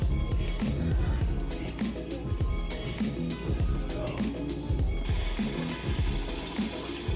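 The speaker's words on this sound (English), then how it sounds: "Right now I'm currently washing the shoe with warm water." Warm water runs steadily from a tap while a Nike Air Force 1 sneaker is washed by hand, a continuous splashing wash with irregular clunks and handling noises, a brighter hiss joining toward the end.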